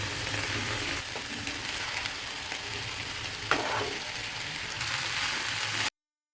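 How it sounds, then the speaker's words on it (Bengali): Sago frying in a pan with potato and cauliflower, a steady close sizzle with occasional stirring scrapes and one sharper knock midway, ending abruptly. "এই গাছ সাবুটাও এখন সুন্দর করে ভেজে নেবো"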